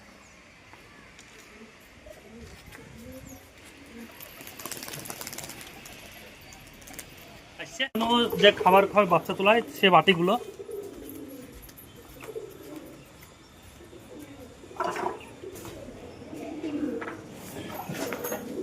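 A run of close, throaty pigeon coos repeats for a few seconds, with a voice speaking quietly around it.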